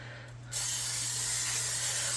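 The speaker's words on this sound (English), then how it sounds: "We're going to spray that with your favorite oil." A steady aerosol spray of avocado cooking oil hisses continuously onto chicken for an air fryer after a brief quiet start, close by, with a low hum underneath.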